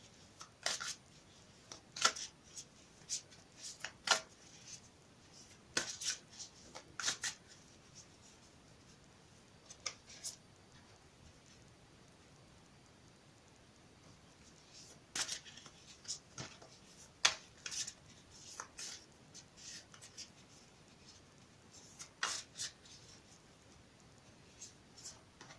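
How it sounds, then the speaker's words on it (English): Soft, quiet oracle card shuffling comes in short irregular bursts of papery riffles and taps, separated by near-silent pauses. "I'll shuffle them again for you on camera."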